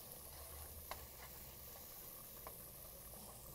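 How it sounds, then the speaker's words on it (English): Onions and garlic sauteing in a pan make a soft, steady sizzle with faint crackles and a few small pops, heard alone at low volume. "I love the smell of onions and garlic. Just give that a quick saute."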